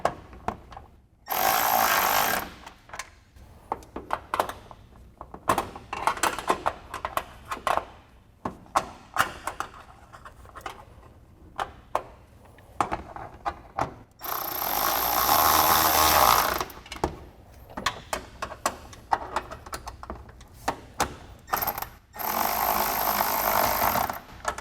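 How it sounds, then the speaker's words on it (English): A 10mm wrench and socket snug bolts on a Jeep Wrangler JK fender flare, with loud bursts of ratcheting and tool noise in several separate runs and scattered clicks and knocks between them. "And then we can get a 10mm wrench and 10mm socket,"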